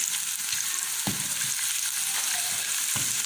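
Cut green chillies dropped into garlic browning in hot oil for mung dal, giving a steady close sizzle with a few soft stirring knocks, no voices.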